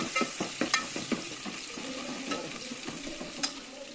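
Quiet sizzling of garlic in hot oil for a dal tempering hisses steadily beneath a run of sharp clicks and taps from a utensil against the pan, close by, no one speaking.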